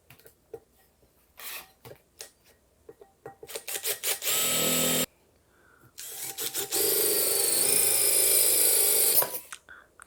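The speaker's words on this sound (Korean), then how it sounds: "자, 그리고 전원선 들어갈 구멍을 뚫어줍니다." A power drill bores a hole for a power cord through the pot of a handmade LED lotus flower. Scattered taps and clicks lead into two sustained, close drilling bursts with a short pause between them, and no one speaks.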